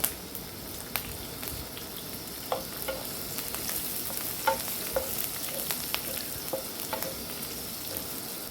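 Cumin seeds, fresh curry leaves and finely cut green chillies sizzling in hot oil, a soft steady crackle broken by a few sharper pops, heard close with no voices.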